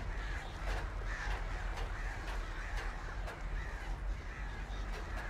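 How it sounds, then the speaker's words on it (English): Crows in the Alan Wake video game caw repeatedly in harsh, rasping calls over a constant low rumble, several birds overlapping at moderate distance with no talking. "I hate these birds."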